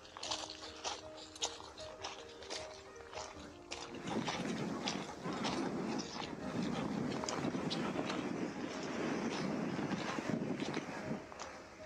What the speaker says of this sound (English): it really is quite breezy up here